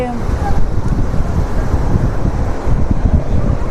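Rough sea at Udaipur beach near Digha, with strong wind and crashing waves making a loud, continuous roar and buffeting rumble close to the microphone.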